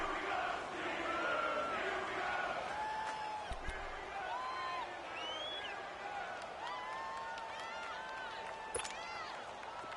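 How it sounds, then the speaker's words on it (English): A football stadium crowd roars and cheers ahead of a big third down. The broad, distant roar holds steady, with scattered whoops and shouts rising above it. "the crowd getting into it as we come up on a big third down"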